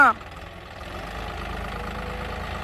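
A tractor engine idles steadily at close range, a low continuous rumble after a brief sharp sound at the start, on a farm field.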